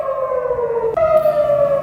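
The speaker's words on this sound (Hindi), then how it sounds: "हर तरफ सायरन सुनाई दे रहे हैं।" An air raid siren sounds in the Dimona area of Israel during a missile attack, a loud sustained wailing tone that jumps up in pitch partway through and holds.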